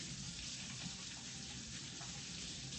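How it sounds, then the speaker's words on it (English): Tap water runs steadily into a kitchen sink as hands are washed, a constant soft hiss and splash with no clear breaks, faint and alone. "let me wash my hands"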